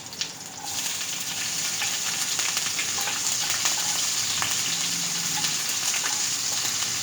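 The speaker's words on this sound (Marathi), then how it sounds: "थोडीशी तेलामध्ये त्याला परतून घ्यायची" Green chilies sizzle and sauté in hot oil with cumin and garlic, producing a continuous close, crackling fry hiss that rises slightly at the start and holds steady with small pops.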